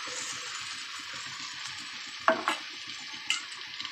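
Soybeans are added to fried masala in a pan and stirred, giving a low, steady sizzle with a couple of sharper scraping clatters from the spoon, close and fairly quiet.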